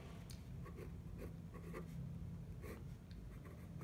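A chemical reaction is written out for a lesson on Cram's rule, giving faint, close, irregular scratchy strokes of a pen or marker over a steady low hum, with no talk.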